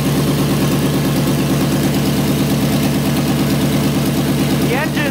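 A custom-built SdKfz 250 halftrack's engine runs close and loud at a steady idle, a constant throbbing drone, with a brief higher whine near the end.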